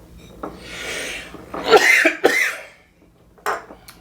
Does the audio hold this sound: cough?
yes